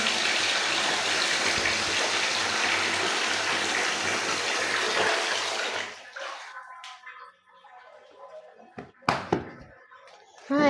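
Water gushes steadily from a tap while feet are washed, then the flow cuts off abruptly, leaving scattered quiet drips, splashes and handling sounds.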